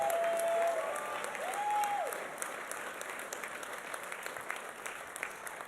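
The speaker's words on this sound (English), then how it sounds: "Let's give George a big round of applause" A crowd at a union bargaining rally applauds steadily, the clapping dense and sustained throughout, with a couple of brief whistles rising over it near the start.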